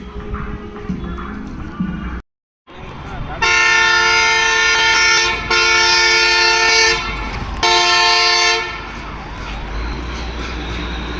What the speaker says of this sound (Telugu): సో ఇక్కడ ఇదేదో ట్రాక్ మెయింటెనెన్స్ సంబంధించి ఒక మిషన్ అయితే వెళ్తుంది.